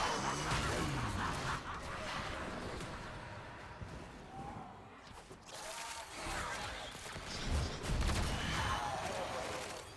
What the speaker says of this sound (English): So it explodes like 4 times, I think, with the Kestrel.